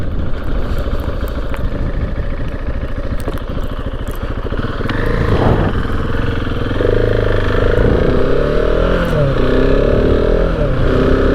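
A 2021 KTM 690 Enduro R motorcycle with a slipper clutch rides along, its single-cylinder engine droning steadily and rising in pitch as it revs up midway, loud and close with wind noise throughout.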